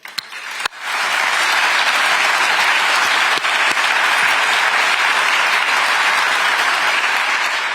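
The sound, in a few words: audience applause at Rheinmetall artillery plant opening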